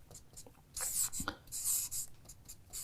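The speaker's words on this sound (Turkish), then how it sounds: "burada hazır önümde de kalem kağıt varken Mesela şöyle bir şey ben yazsam buraya." A pen writes a short word on paper close by, giving soft scratchy strokes in a few separate bursts with small pauses, with faint background noise and no talk over it.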